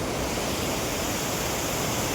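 River water rushes loudly and steadily during a river crossing on a bike ride near Saputara, Gujarat, forming a dense unbroken roar with no voices.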